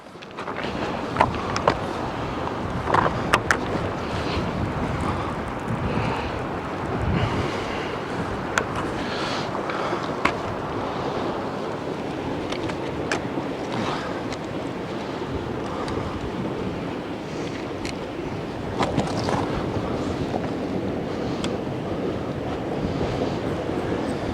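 Strong side wind buffets the microphone on coastal rocks during sea fishing, a loud, continuous roar blended with breaking surf that never lets up.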